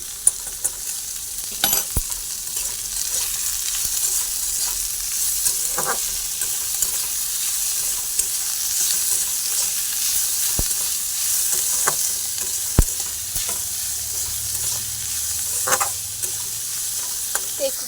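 Food for a bread sandwich fries with a steady, hissing sizzle in a pan, broken by a few sharp utensil knocks and scraping stirs, close and continuous with no talking.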